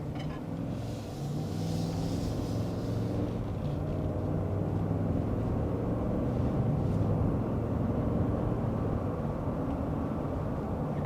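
Steady low engine and road rumble inside the cabin of a 2023 Cadillac Escalade as it accelerates, heard from the seat: a smooth, muted drone with faint climate-control hiss, no speech.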